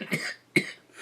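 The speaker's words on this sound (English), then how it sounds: "Now time for me to cough." Two separate coughs from a person in a quiet room, the second sharper and louder, with a soft breath trailing at the end.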